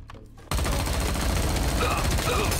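Loud automatic gunfire in the shooter game XIII Remake bursts in abruptly after a quiet moment and keeps going as a dense, continuous rattle.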